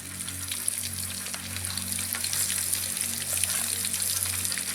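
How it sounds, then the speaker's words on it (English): Fish fillets frying in boiling oil at an island campsite by the Maumee River, seasoned with a spice rub, giving a steady, close, crackling sizzle that stays even throughout, with a low hum beneath and no talk. "oil's boiling, so I'm gonna get cooking."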